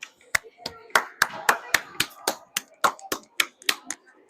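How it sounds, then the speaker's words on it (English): Sharp, sparse claps ring out in an uneven rhythm at a youth hockey rink for an injured player getting back up, about fifteen distinct hand claps over a few seconds. "give him a little clap"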